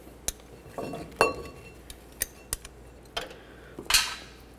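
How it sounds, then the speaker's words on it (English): Metal parts clink and scrape up close as a brake flex hose comes off the front caliper of a 1988-2000 Chevy C/K1500, with about a dozen sharp separate taps and rattles. "Fully remove your flex hose from the caliper."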